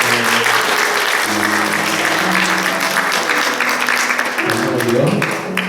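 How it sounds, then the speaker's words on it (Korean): A church congregation applauds during a Sunday worship service, dense steady clapping filling the room for several seconds, with a faint voice and tones underneath. "박수 하나 할까요?"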